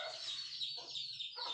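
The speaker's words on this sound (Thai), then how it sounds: "เสียงไก่" Chickens on a Thai farm give continuous bird calls, a steady mix of clucks and higher squawks close by, with no talking.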